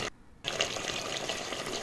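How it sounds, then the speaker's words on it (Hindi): A glass of water is poured into cooking chicken with garlic-ginger paste, giving a short hissing splash and sizzle that begins abruptly after a brief silence and continues steadily, fairly quiet. "उसके बाद 1 गिलास पानी का ऐड कर देंगे।"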